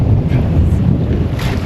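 Strong wind buffets the microphone aboard a sailboat, a steady loud rumble mixed with rushing air and faint surf.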